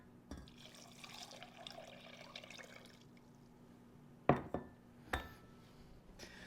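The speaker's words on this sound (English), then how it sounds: "And then I'm going to add enough water just to cover them up" Water poured from a tap into a pot of soaking beans, a soft steady stream for about three seconds, followed by a few sharp clinks of the pot or utensils against glass and metal.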